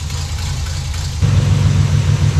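A car engine idles below 1000 RPM with a steady, low, lumpy rumble that grows noticeably louder and fuller midway through.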